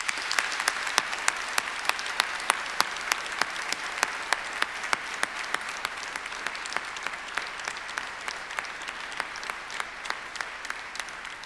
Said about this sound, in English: I now ask the members of the audience to applaud your accomplishments.